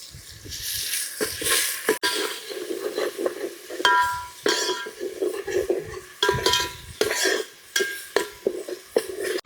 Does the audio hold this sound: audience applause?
no